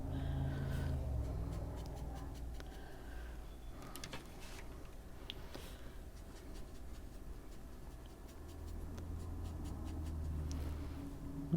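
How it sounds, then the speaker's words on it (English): Coloring in a page of an adult coloring book, with steady scratchy strokes of the coloring tool on paper and soft tapping, quiet and close throughout. "I'll just go around and get it all colored in."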